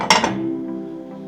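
Chicken drumsticks set into an oiled, heated pan for Kenyan masala chicken, with a couple of sharp clinks up front and then a steady, close frying hiss and hum.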